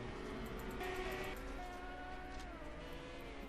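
IndyCar race cars at the Adelaide street circuit roaring past on track, a dense, continuous engine drone with rising and falling pitch as several cars go by at speed, moderately distant and steady throughout.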